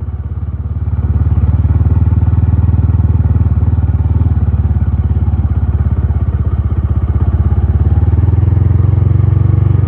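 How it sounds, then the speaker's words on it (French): A motorcycle engine runs loud and close, with a steady chugging rumble that builds and holds as the bike accelerates and shifts gear without the clutch, with no talk over it. "On va accélérer, regardez, on passe D."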